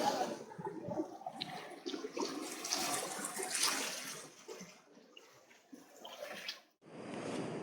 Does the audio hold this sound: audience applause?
no